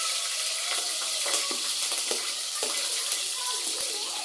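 Green chillies dropped into hot oil in a pan for a chicken gravy, a loud broadband hiss and spatter that holds steady for a few seconds, with no talking.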